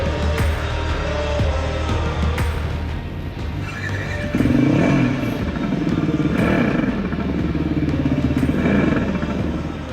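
Synthesized engine tone from a Revolt RV400 electric motorcycle, a steady artificial drone with rising and falling pitch sweeps, fairly loud and continuous with no talk.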